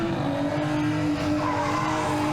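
A Hot Wheels diecast car grinds along a track on its roof during a Dodge City diecast race, a steady scraping whine with a humming tone, continuous and close throughout.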